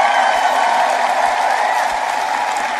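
A sermon audience claps in sustained, dense applause that stays loud and even throughout, with no clear speech on top.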